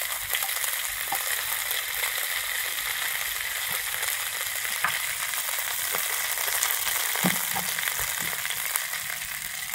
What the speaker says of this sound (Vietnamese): Rồi xong mình xào lên cho răm nó vừa chín với đậu hũ